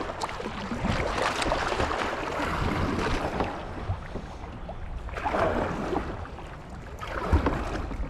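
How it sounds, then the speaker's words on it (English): Steady broadband rush of water and wind around a small boat, with occasional splashes and bumps, continuous and fairly close. "Oh, it's a boat."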